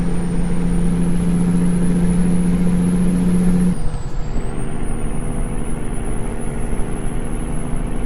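Truck engine in American Truck Simulator, a steady loud drone while cruising down a highway, with a sustained tone that drops away midway and a faint high whine throughout, no talking.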